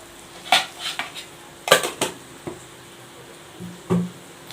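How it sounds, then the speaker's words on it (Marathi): Spices such as turmeric and red chili powder being mixed into a dish, with a few separate clinks and scrapes of a spoon against a metal pot, spaced out and fairly close, with quiet gaps in between. "आता हे चांगलं मिक्स करून घ्यायचं"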